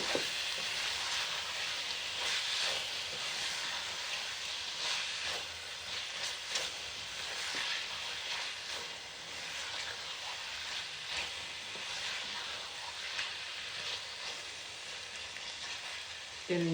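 Soya methi keema being stirred in a frying pan, a steady bright sizzle running throughout with scattered scraping taps of the spoon, fairly close and even in level.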